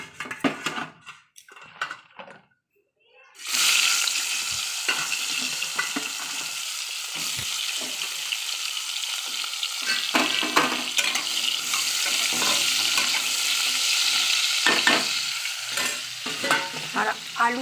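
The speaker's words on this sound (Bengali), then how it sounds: "এখন এই তেলের মধ্যেই পটলটা ভেজে নেব।" Pointed gourd (potol) frying in the hot oil left over from frying fish: after a quiet start, a loud, steady sizzle takes over and holds, with occasional stirring scrapes and clinks.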